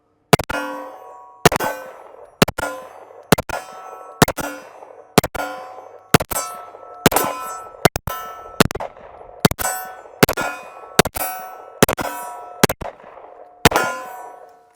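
Pistol rounds from a Sig Sauer M17 or Glock 19X ring off steel targets in a steady string of about twenty sharp, ringing clangs, each with a short metallic decay, spaced roughly a second apart.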